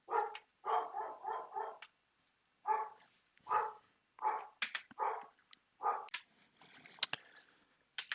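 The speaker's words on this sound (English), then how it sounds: "Just had to let my dog in." A dog barks in a rapid run of several harsh barks, pauses, then returns with scattered single and double barks, close and loud with nothing else around.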